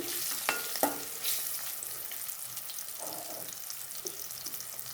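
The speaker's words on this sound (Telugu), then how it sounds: "పోపు చక్కగా ఎర్రగా వేగిపోయింది." Tempering spices sizzle and crackle in hot oil in a pan, with a few scrapes and clinks of stirring over a continuous soft frying hiss.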